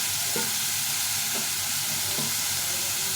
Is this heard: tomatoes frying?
yes